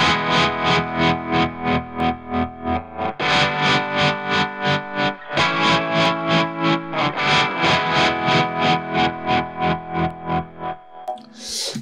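Distorted electric guitar through a Mooer Trelicopter tremolo pedal at slow speed, sustained chords pulsing in a steady, even volume throb, loud and alone.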